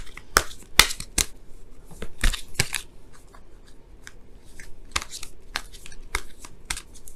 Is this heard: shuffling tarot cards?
yes